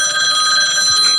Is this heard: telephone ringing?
yes